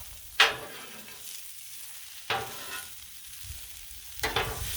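Beef stir fry with vegetables sizzles on a Blackstone griddle outdoors, with a constant frying hiss broken by three sharp scraping, tossing strokes of a spatula spaced a couple of seconds apart.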